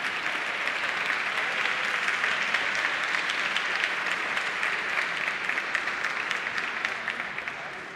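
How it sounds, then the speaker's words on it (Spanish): Steady, dense applause fills the room at a prize ceremony for a cybersecurity competition, honouring the fourth-place winners; the clapping holds strong and even throughout before tapering slightly at the end. "fuerte el aplauso para el cuarto premio."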